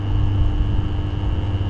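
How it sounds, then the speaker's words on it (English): Steady outdoor wind buffets a microphone at an off-grid solar-powered borehole site, a constant low rumbling roar with a faint steady hum above it and no talking. "Sorry about the wind."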